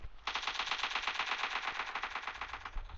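Rapid automatic gunfire in PUBG Mobile, a dense, steady burst of close, loud shots running nearly unbroken for about three seconds with no talking.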